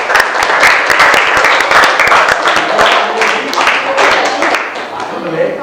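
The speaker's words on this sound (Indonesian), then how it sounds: "kita beri tepuk tangan untuk kelompok 2" Classroom audience applauding a student group after their presentation, loud dense clapping from many hands that thins toward the end, with some voices mixed in.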